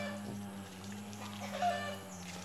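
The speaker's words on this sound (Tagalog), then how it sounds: "pumupunta na lang po dito yung aking mga manok. So, nanunuka na lang po" Backyard chickens gather at a homemade feeder built from a mineral water bottle, clucking softly at a distance beneath a steady electrical hum and background noise.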